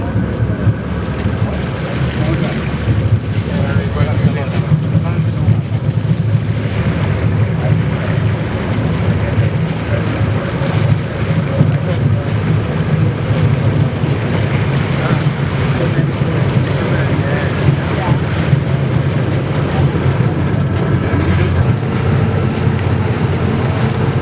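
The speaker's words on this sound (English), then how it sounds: "So then we're on a boat." A tour boat moves across open water on a windy winter day in Stockholm, with steady loud wind buffeting and low rumbling water noise throughout, and a little faint talk underneath.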